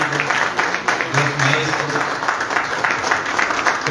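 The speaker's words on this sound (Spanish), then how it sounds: "Un fuerte aplauso también." Applause from an audience at a round-table event on the history of Tunas in Arequipa, a dense steady patter of many hands lasting several seconds while a voice speaks over it.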